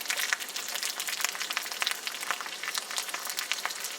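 Trout fillets and onions sizzle and crackle steadily in a cast iron pan over a firebox stove, a close, dense frying hiss with no voices.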